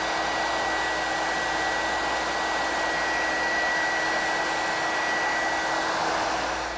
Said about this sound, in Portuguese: A gente pega o secador no quente,